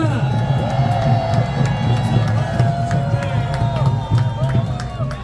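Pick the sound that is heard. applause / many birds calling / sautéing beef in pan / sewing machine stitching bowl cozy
applause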